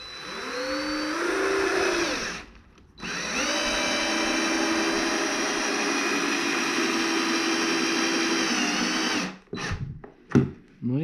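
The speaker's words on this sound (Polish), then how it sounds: "Właśnie sobie testuję wkręty na Torxa" Power drill driving Torx screws into wood on a garage workbench build, two sustained whining runs, the second long and steady, with a brief stop between and short bursts near the end.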